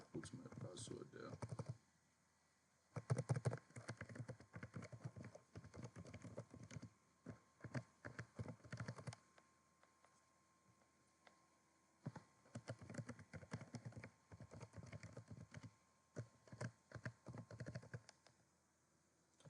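Someone types a password on a computer keyboard, with quick bursts of clicky keystrokes separated by brief pauses and a voice talking now and then between them.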